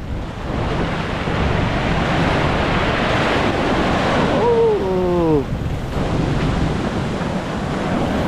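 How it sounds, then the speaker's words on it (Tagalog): Big ocean surf whipped up by a typhoon, with sustained roaring wave wash and gusting wind buffeting the microphone throughout, plus a brief chirping, creaking sound partway through. "Laki ng alon."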